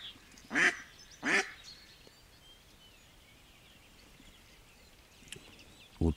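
Mallard-type decoy ducks call during a spring drake hunt, two loud quacking bursts close together near the start and a sharper call at the end, with quiet outdoor ambience between.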